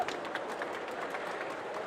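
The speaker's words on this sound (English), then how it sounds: "A round of applause, please." An audience at a VivaTech 2023 tech conference panel gives a round of applause, brisk overlapping claps at moderate volume in a large hall.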